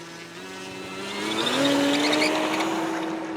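The electric motor of a Hangar 9 P-47 Thunderbolt 58-inch RC plane whines at about half throttle, and its steady tone climbs in pitch and swells louder before easing slightly, heard close with no talking.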